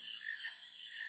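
Frogs croak in Final Fantasy IX, a faint, steady chorus of rasping calls that continues without a break, alone with no talk.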